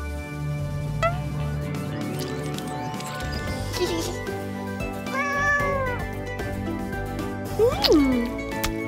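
Several cat meows, some drawn out and rising, over continuous background music, with a louder wavering meow near the end.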